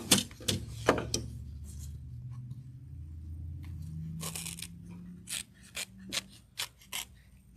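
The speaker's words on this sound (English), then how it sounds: "I have these same curved scissors." Close, crisp snipping and rasping of curved scissors cutting through fabric, a series of short cuts with brief pauses, over a low steady hum.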